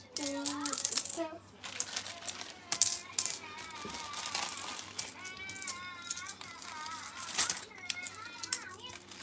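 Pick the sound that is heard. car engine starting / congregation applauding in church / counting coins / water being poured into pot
counting coins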